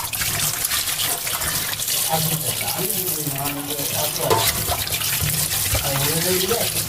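Tap water runs steadily over cut hilsa fish being washed by hand, with splashing and handling noises while a voice talks over it.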